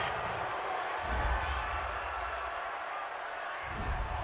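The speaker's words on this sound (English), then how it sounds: "this crowd does not like that call" Stadium crowd at a Cardinals vs. Rams NFL football game reacting to a penalty call: a steady roar of many distant voices with low rumbling swells, continuous throughout.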